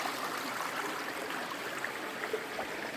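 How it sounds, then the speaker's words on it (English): Steady, gentle trickle of water flowing over rocks in a clear creek on a hot July day, a continuous close bubbling wash with small splashes and no voices. "All these beautiful little pores and trickling water."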